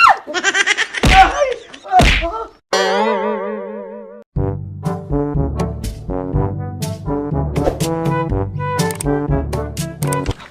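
Cartoonish comedy beating with a boing, thuds and a run of quick slap and smack hits over a bouncy background tune, loud and close.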